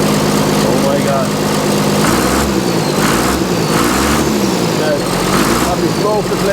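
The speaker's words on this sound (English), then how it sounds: "But absolutely lovely roar out of this engine." A car engine roars and idles loudly and steadily just after starting, a continuous low rumble with a few rising revs, under some speech.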